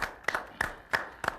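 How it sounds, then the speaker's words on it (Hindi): Sparse claps in a few distinct, evenly spaced bursts at a televised Independence Day poetry gathering, greeting poet Kushal Kushwaha; light and thin rather than a full ovation. "एक बार जोरदार तालियां हो कुशल कुशवाहा के लिए।"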